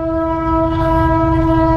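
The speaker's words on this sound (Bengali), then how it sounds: "ও ট্রেন হর্ন মারতেছে, দেখছেন?" A train sounds its horn while passing through a forest, a loud sustained tone with steady overtones held throughout, over a continuous low rumble of the moving train.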